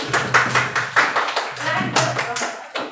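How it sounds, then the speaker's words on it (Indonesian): Students in a classroom clap for a student group, a short burst of uneven, close hand claps mixed with voices and chatter across the room. "tepuk tangan untuk kelompok 1"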